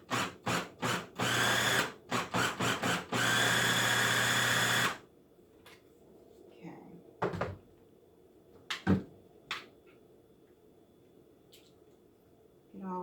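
Food processor motor blending a cucumber cream cheese dip, several short loud pulses followed by a longer whirring run that stops abruptly, then quiet kitchen clatter and brief bumps.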